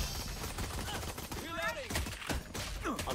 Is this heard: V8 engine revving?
no